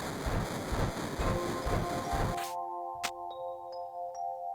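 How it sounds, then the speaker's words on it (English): Train ride in the video game Final Fantasy VII: dense rumbling clatter for about two seconds cuts off abruptly, followed by sustained tonal hums and a sharp chime, with soft bell-like pings trailing near the end. "it was just a fun little train ride to go on for fun"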